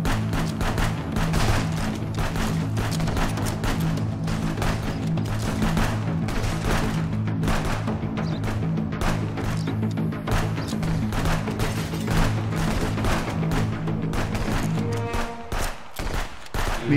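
Rapid, sustained gunfire from a police shootout in the video game Contraband Police, dense bursts of shots repeating loudly and steadily over a low droning background, breaking off near the end.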